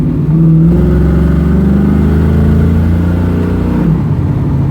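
A throttle-body-injected small-block Chevy 350 V8 in a 1992 Chevy Camaro RS revs loudly and steadily up close, its deep rumbling note climbing and falling with the throttle, and no one speaks.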